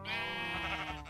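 A single short sheep bleat from Minecraft, clear and close, with a wavering harmonic tone lasting about a second.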